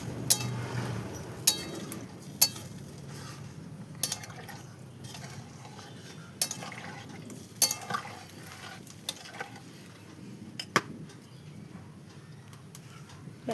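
Stirring a potol-prawn curry in a pan right after water has been added: soft, continuous liquid swishing with a quiet sizzle underneath, broken by several sharp clinks of the spoon against the pan.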